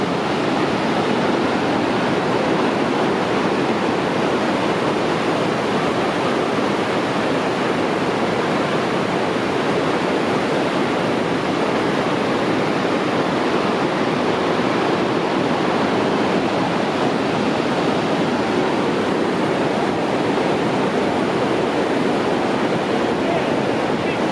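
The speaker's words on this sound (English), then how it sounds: "I'm not sure if you could still hear me over the water." Loud, steady rushing of a spectacular river, a continuous broadband roar of churning water that fills the whole stretch without a break and masks everything else.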